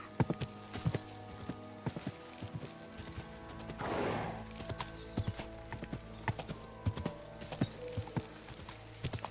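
Hooves clip-clop steadily on hard ground, a horse walking nearby in the woods in the video game Kingdom Come: Deliverance 2, with a brief rush of noise partway through.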